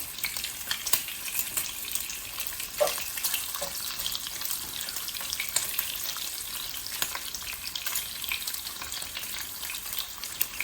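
A pound of food frying in a pan, a steady close hiss and crackle of sizzling fat with occasional stirring clicks, continuous and moderately quiet, no talking.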